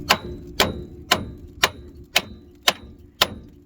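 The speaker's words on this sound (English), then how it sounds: "Good smacks a couple times." Seven sharp hammer smacks on a 1997-2004 Ford F-150 ball joint, evenly spaced about half a second apart, each a loud metallic crack with a short ringing tail, close by and alone.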